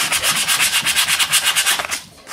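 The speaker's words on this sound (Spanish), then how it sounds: "vas a empezar a lijar" Sandpaper rubbing across a wooden table being prepared for decoration, a loud, steady back-and-forth scratching in quick even strokes that eases off at the end, with no voices.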